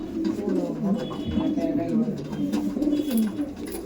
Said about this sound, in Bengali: এই দেখুন পায়রা, দেখুন কত সুন্দর পায়রা